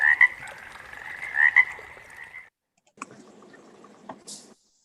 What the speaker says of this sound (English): Don't stop for the dab frog.